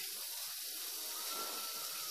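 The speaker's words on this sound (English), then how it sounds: "light my torch." Steady broadband hiss of a lit butane torch flame used while building vape micro coils, running continuously at moderate level with a faint water tap wash beneath, no talking.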